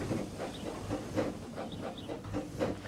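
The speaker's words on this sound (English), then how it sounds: "this is a steam tram" Rhythmic chuffing and puffs of hissing steam from a slow-moving steam tram engine, with rail clatter beneath, moderately quiet and steady.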